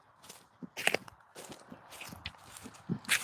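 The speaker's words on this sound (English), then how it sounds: "Can you hear the crunching?" Footsteps crunch through a wooded area, a handful of uneven, dry steps at close range, fairly faint, with no talking.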